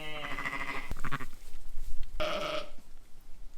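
A ewe and her newborn twin lambs at lambing time bleat in a few close, wavering calls, one longer cry at the start and another shorter one later, with quiet pauses and no talking.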